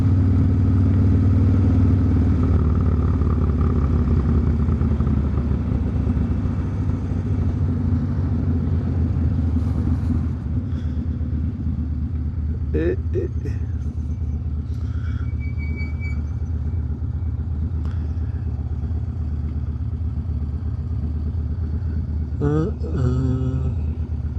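Steady low engine drone and road rumble of a Harley-Davidson Dyna motorcycle in motion, with wind noise and occasional clattering over rough ground; no clear voices.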